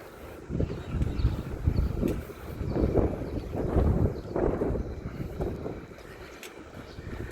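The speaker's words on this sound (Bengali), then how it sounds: "সাউন্ড কি বাতাস, কি ঠান্ডা বাতাস" Cold wind gusts roar and buffet the microphone in rumbling low surges in Rabigh, Saudi Arabia, loud and close, with no one speaking.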